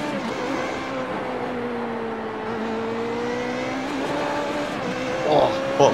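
A race car in iRacing bottoms out on a curb while its engine drones steadily throughout, with a brief scraping thump near the end and people talking over it.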